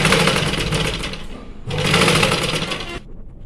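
A sewing machine stitches blouse piping in two fast, loud whirring bursts, a brief pause between them and a stop near the end.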